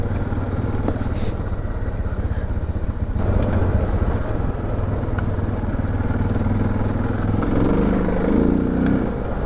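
A Suzuki DR650 motorcycle rides over loose pea gravel. Its engine drones steadily and loudly up close, with faint clattering from the gravel beneath it throughout.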